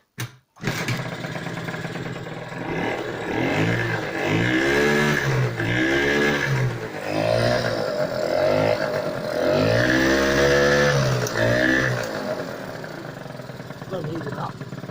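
A Peugeot Ludix scooter, partly dismantled, has its small engine started and then runs steadily, revving up and down in waves, loud and close throughout.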